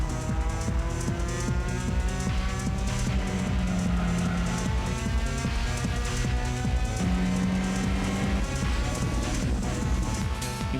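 Race car engine droning and rising through gears on the Laguna Seca circuit, loud and continuous with steady harmonic whine and a brief tire note, no talking.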